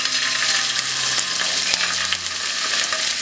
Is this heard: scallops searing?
yes